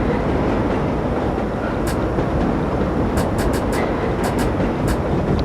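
A New York Line 7 subway train runs in the World of Subways simulator with a steady loud rolling rumble, while brief high squeals and clicks recur over the drone.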